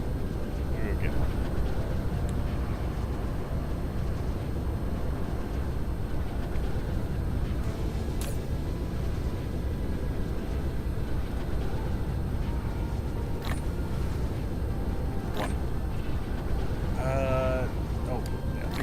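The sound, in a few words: mecha flying in flight mode, from video game Dyson Sphere Program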